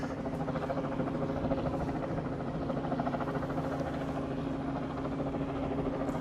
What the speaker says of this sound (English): thank the helicopter pilot for hovering directly above us